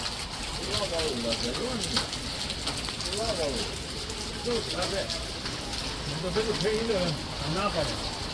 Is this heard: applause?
no